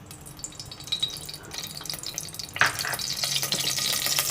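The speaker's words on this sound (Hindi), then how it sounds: "अब दूसरे पैन में हम सबसे पहले ये कुकिंग ऑयल डालेंगे।" Cooking oil poured into a second pan on the stove, a soft trickling hiss building into a louder splash and sizzle midway through, close and unaccompanied by speech.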